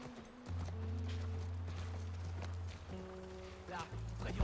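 Horse hooves clip-clopping in The Last of Us survival mode near a ranch, a quiet rhythmic patter beneath game music tones and talk from players.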